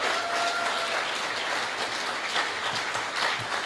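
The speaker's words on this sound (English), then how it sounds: "Give him a round of applause, please." A room applauds for a firefighter receiving a valor award at a city's state address, a fairly faint, even spread of clapping heard from a distance throughout.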